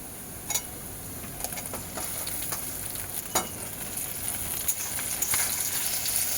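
Tomatoes dropped into onions frying in a pan for a Bengali radhuni chicken curry, giving a steady close sizzle with a few sharp crackles and stirring scrapes throughout.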